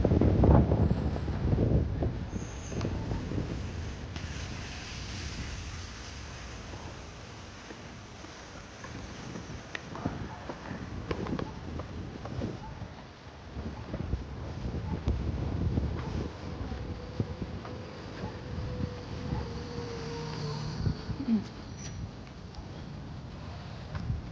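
Wind buffets the microphone in gusty, rumbling bursts throughout at an outdoor river park in Marikina, with a faint distant hum in the background.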